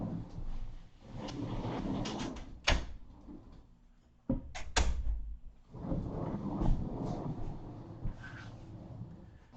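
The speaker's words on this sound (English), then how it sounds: "let me get these doors closed" Doors are shut by hand, with sharp thuds and clicks and sliding rattles at a few points amid indoor shuffling and movement noise, fairly close.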